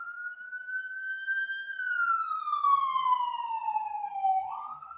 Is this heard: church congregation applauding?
no